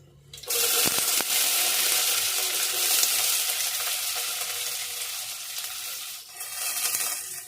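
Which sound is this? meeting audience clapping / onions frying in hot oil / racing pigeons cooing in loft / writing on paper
onions frying in hot oil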